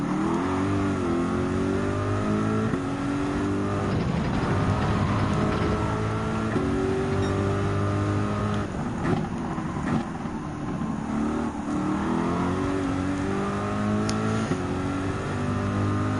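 Racing engines in Gran Turismo 7 during a GTWS Manufacturers Cup race, a continuous loud drone that rises and falls with repeated accelerations and shifts, steady throughout with no talking.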